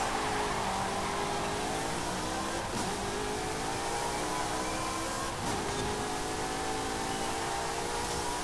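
A pre-2000 Ferrari V8 engine in Forza Horizon 5 revs steadily at high pitch, rising and shifting through gears during a race, loud and continuous with no voices.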